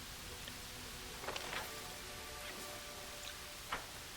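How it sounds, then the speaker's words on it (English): Steady rainfall in the video game Baldur's Gate 3, a constant hiss of rain with a few louder drops striking surfaces, quiet and continuous for about four seconds with no voices. "Hey, it's raining."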